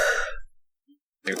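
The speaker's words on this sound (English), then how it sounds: "a sneeze." A single short sneeze bursts out, then silence, followed by the start of another brief vocal sound.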